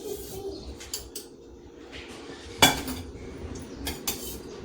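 A metal spoon clinks and scrapes against a pan as ghee goes in while dry fruits roast for anjeer katli, with scattered light clatters and one sharper clang midway over a quiet kitchen background.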